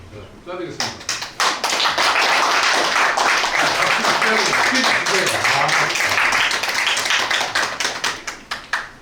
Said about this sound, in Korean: 박수로 갑니다.